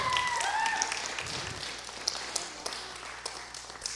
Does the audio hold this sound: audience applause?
yes